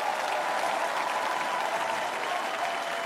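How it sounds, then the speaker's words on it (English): A church congregation claps together at a thanksgiving reunion service, producing dense, steady applause with a murmur of voices underneath throughout. "let me see and hear you put your hands together and clap for the Lord"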